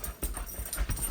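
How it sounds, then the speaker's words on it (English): Puppies yapping and panting indoors, short faint bursts of small-dog barks and breathy sounds scattered unevenly, quiet and close with no talk. "And excuse the dogs. They are puppies."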